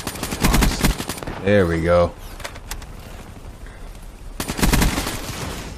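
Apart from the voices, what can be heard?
gunfire in a shooter video game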